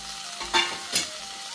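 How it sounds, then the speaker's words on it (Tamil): Two medium onions being stirred and sautéed in a pan for peas pulao, two brief scraping stirs over a low steady sizzle, close and alone. "2 மீடியம் சைஸ் வெங்காயம், இது நல்லா வதக்கிக்கலாம்."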